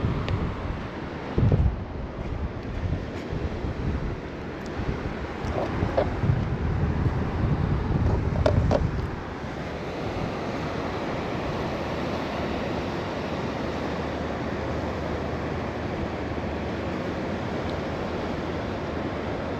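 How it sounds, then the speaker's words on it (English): Strong wind on Easington Beach on the Holderness Coast, gusting hard across the microphone with a dense, loud rumble and buffeting that eases after a few seconds into a steadier roar with surf behind it. "Sorry if you can't hear me, it's rather windy."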